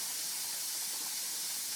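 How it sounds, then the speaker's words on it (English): Steady broadband hiss of steam venting from the top of a home pressure canner, alone and fairly faint, with no voices. "You can hear it maybe, and you can see the steam coming out of the top"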